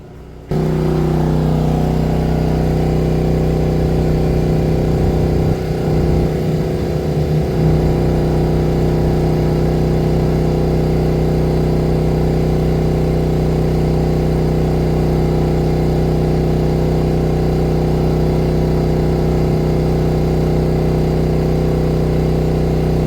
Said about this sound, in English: This microwave pulls a lot of power